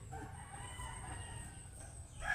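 A rooster crows nearby in one sustained, wavering call lasting about two seconds, fairly quiet against light background noise, with no talking.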